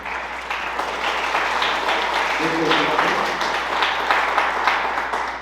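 Conference audience at a law school institute applauds, a broad wash of clapping that holds steady for several seconds, with a faint voice or murmur briefly surfacing in the middle.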